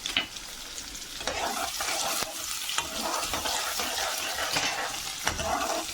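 Onion, green chili and cumin fry in a pan for a traditional Himachali dish, crackling and sizzling steadily up close, with repeated scrapes and taps of a stirring spoon.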